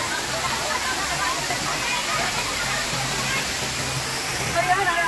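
A hidden waterfall roars steadily as a broad, constant wash of falling water nearby, with people talking faintly beneath the rush.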